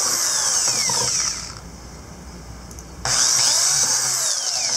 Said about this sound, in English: So I'm ready to start drilling.